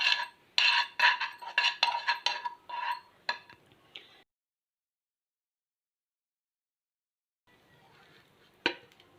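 A spoon clinks rhythmically against a bowl while stirring eggs with a little oil, salt, turmeric and chili powder, in quick close taps for several seconds, then a silent pause before faint handling and a final clink.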